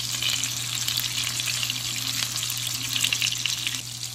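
Meatballs frying in a pan on medium heat make a loud, dense, continuous sizzle and crackle, close up and without pause, with no talking.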